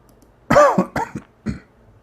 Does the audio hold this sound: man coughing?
yes